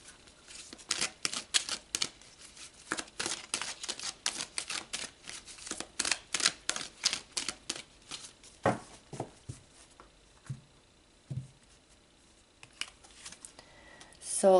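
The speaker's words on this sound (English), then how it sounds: "let's shuffle some more for the next two" Cards shuffled by hand in quick rapid riffles, each a crisp burst of rustling snaps, close and clear with brief pauses between, then a few softer taps near the end, with no talking.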